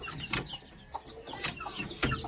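Plymouth Rock native cross chickens in a yard give soft, repeated clucks and chirps, close by and over a low background murmur.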